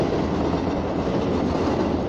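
Continuous clickety-clack and low rumble of a train rolling along the tracks in Indian Train Simulator, between Annkonam and Arakkonam junction, dense and even at close range with no voices.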